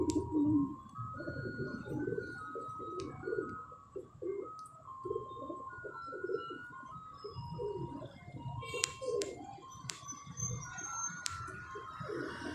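Pigeons coo at a pigeon loft, repeated soft throaty calls overlapping in a steady rhythm up close, with occasional chirps and bright clicks scattered above them.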